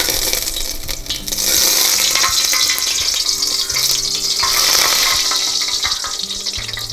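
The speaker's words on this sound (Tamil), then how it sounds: "ஆயில் நல்லா சூடாகிடுச்சு சூடான பிறகு தான் இடித்து வச்ச அந்த மூலிகைகளை நம்ம அதில் போடணும்" Crushed herbs sizzle and crackle loudly in hot oil in a pan as a herbal hair oil is prepared, a steady frying hiss with occasional stirring, no voices.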